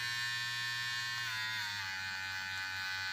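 A PRITECH PR 2212A electric hair trimmer runs at its fourth speed setting, giving a steady, close, high-pitched motor buzz that wavers slightly in pitch midway and keeps going alone for the whole stretch.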